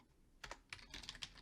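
Keystrokes on a computer keyboard, a few quick clustered clicks in short bursts, close and fairly quiet, with no talking.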